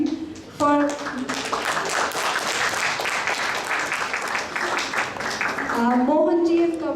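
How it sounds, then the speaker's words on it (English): An audience applauds at an event, a dense burst of clapping that swells for several seconds, while a speaker's voice is heard at the start and end. "So I want you to give a big round of applause for our core team"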